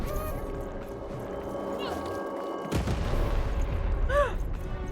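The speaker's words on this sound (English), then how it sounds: "Shoot the button to fire the cannon." A cannon fires at a revolving cannon tower in Lost in Random, a single heavy boom landing about midway and followed by a rumbling tail over a busy game soundscape with short whooshing effects.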